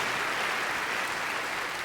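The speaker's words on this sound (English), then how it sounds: "That deserves a round of applause" A large awards-show audience at the NASCAR Sprint Cup Awards applauds in a steady, dense wash of clapping that stays even and fairly distant throughout.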